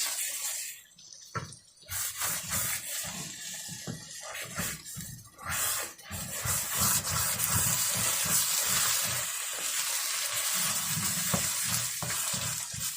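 Spinach and eggs sizzle and fry in a pan while being stirred and mixed, a steady loud crackling hiss broken by repeated scraping strokes and brief pauses, with no voices.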